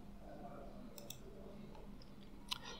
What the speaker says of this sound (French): Et je clique sur publier.